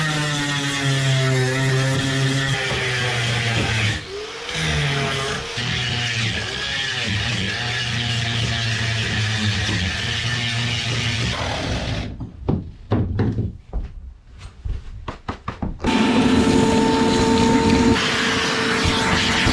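A grinder works over the fiberglass hull of a 20 ft Pacemaker boat, giving a loud, steady motor whine with grinding rasp. It breaks off midway into a few sparse clicks and knocks, then starts up again at full volume.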